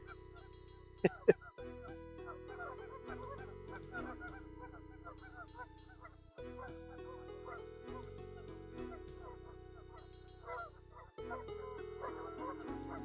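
Geese honk loudly while fighting, harsh repeated calls clustered near the start, with a steady low drone and occasional honks continuing through the rest.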